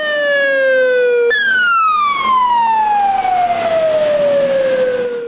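Fire engine siren wailing loud and close as a volunteer fire crew heads out to a wine cellar fire, one long falling wail that restarts high and glides down steadily with no talk.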